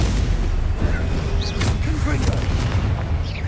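Confringo explosive curse blasts in Hogwarts Legacy, heavy booming hits over a rumbling low combat background with whooshing magical effects, a few distinct impacts across a few seconds.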